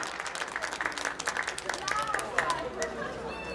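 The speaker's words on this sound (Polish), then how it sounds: "Wielkie brawa dla Kacpra!" Scattered applause for a junior player from a small crowd, light and moderately distant, with chatter running underneath.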